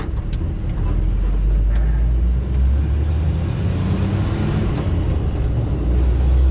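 Steady low engine rumble and road noise inside a Jeep CJ-5 on a countryside drive through autumn foliage, continuous and loud with no talk over it.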